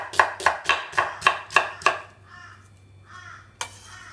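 A knife slices through halved, trimmed vegetables on a cutting board, giving seven crisp, evenly spaced chops in quick rhythm, then a few softer scraping strokes and one final sharp cut, close and clear with no talking.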